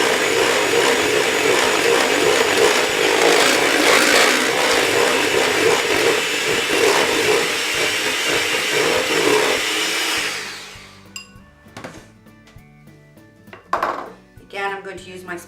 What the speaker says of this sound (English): And now I'm going to mix this.